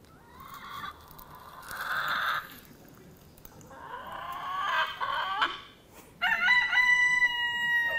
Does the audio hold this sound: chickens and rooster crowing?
yes